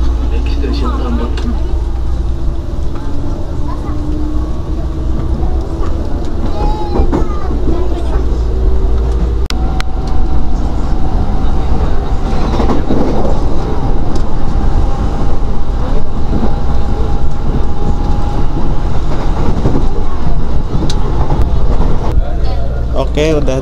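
A KRL commuter train runs between Tambun and Bekasi stations with a steady low rumble and rolling roar, and a long tonal whine rises partway through. Passengers talk quietly under the continuous noise.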